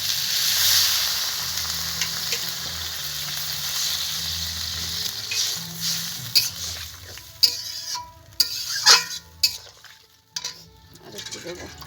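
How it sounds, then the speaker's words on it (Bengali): Water poured into a pan of frying spiced cauliflower sets off a loud, hissing sizzle that gradually settles, followed by clinks and scrapes of a metal spoon stirring against the pan. "বন্ধুরা এখন আমি জল দিয়ে দিচ্ছি।"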